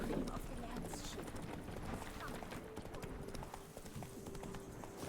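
In The Witcher video game, the horse Roach trots along, and a clear, steady clip-clop of hooves carries throughout at moderate volume, with a voice speaking over it.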